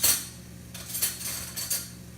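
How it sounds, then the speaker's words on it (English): A metal fork mashes an avocado in a bowl, giving a few scraping, tapping strokes in an uneven rhythm, close and clear with no voices. "So I'm going to smush up this avocado."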